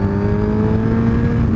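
A 2017 Suzuki GSX-R1000 motorcycle accelerating hard, a loud, steady engine drone with a rising whirring tone, close and continuous, with no voices.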